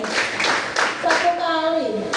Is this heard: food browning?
no